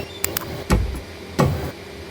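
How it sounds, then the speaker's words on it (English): Cockpit door closing inside an airliner in Microsoft Flight Simulator 2020, heard as a couple of light clicks followed by two fuller, muffled thuds spaced about half a second apart, near and moderately loud. "Okay, I'm gonna close the cockpit door now."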